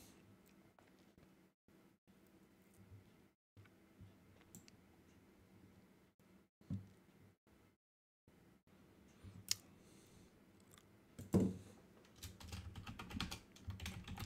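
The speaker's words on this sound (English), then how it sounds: "I'm typing." Quiet tapping on a computer keyboard, irregular bursts of key clicks with brief pauses and a few louder clacks toward the end.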